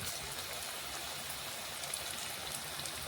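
Onion fritters (piyaji bora) fry in a little oil, giving a steady, close hiss and fine crackle that holds evenly throughout, with no talking.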